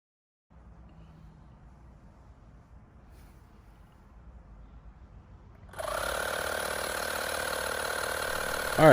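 A Fanttik X8 APEX battery-powered portable air compressor kicks on partway through, a loud steady mechanical whir inflating a ball, following a quieter stretch of low background hum.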